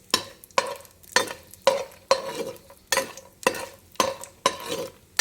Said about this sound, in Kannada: ಹಾಕಿ ಚೆನ್ನಾಗಿ ಫ್ರೈ ಮಾಡ್ಕೊಳ್ಳೋಣ